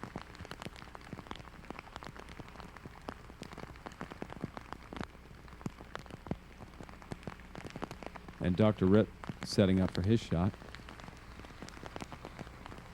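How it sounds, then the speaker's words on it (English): Steady rain falls on an outdoor disc golf course during a tournament round, a dense patter running throughout under a commentator's voice. "the rain's still coming down"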